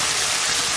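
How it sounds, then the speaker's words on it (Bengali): Water poured onto a hot plate to fry spices for a red vetki fish kalia cooked village style, a steady loud rushing hiss with no pause throughout the brief moment. "আমি এই প্লেটে একটু জল দিয়ে মশলাটা কষানোর জন্য এই জলটি দিয়ে দেবো"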